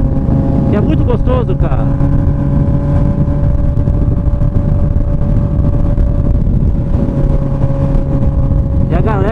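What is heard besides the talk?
Honda CB 1000R motorcycle revving with open exhaust pipe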